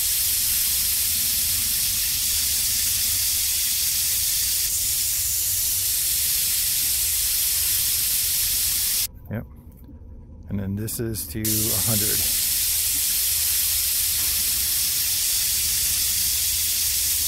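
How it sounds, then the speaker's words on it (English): A can of WD-40 sprays onto an AK rifle in a VR video game, giving a loud, steady hiss that runs almost throughout, broken once by a short pause while a voice speaks. "They really have to spray it around."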